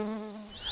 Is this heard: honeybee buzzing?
yes